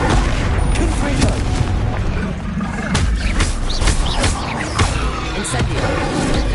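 Confringo explosive spells fired in Hogwarts Legacy amid a dense, loud battle, with repeated booming blasts and crackling impacts layered over constant combat noise.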